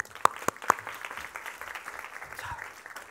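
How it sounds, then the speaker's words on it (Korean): A worship-service congregation claps in a brief burst of applause, with a few sharp, close claps standing out at the start before the sound thins into scattered, fading clapping. "박수 한번 주세요."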